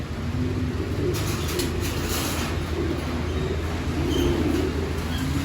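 Pigeons in a breeder's loft give low, repeated cooing over a steady background hum, close and continuous, with no talking.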